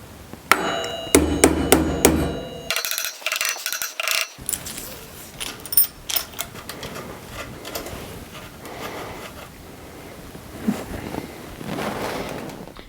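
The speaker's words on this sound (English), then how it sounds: "I'm going to hammer it in" A rusty Allen key held on a bike fork's star nut is struck by a hammer, sharp metallic blows in a quick burst, then scattered taps and clanks amid handling noise.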